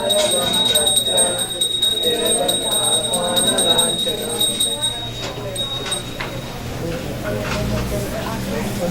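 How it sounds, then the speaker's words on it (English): A bell rings during a Hindu puja prayer at a youth gathering, its steady, sustained tone carrying under continuous singing and voices throughout. "The next is ringing the bell"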